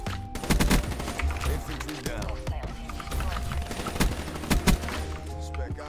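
Rapid hip-fired automatic gunfire in the video game Black Ops 3 comes as loud, dense bursts with explosions and game effects mixed in, and a player's voice talks briefly over the action.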